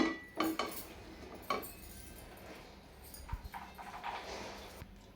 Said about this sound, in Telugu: గిన్నె పెడుతున్నాను